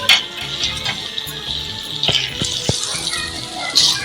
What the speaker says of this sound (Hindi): हम इसको अच्छे से मिक्स कर लेंगे और आँच हमारी बिल्कुल दरमियानी है।